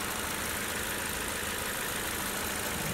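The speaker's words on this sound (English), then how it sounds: "This is powered by Toyota's 2-liter dynamic force engine." The 2-liter Dynamic Force engine in a 2021 Toyota Corolla Apex Edition idling with a steady, smooth hum, heard from inside the car without variation, under a constant broad wash of noise.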